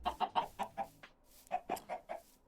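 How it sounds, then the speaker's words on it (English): Chickens in a Minecraft modpack farm give a quick series of short, sharp clucks in two bursts, close and clear with no talking over them. "we got cows, we got chickens"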